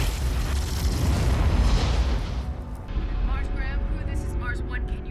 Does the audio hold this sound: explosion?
yes